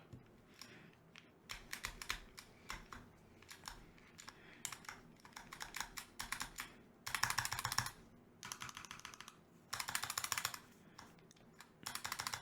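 Keys clack on a custom mechanical keyboard in quick bursts of close, crisp typing separated by short pauses, with some bursts louder and denser than others.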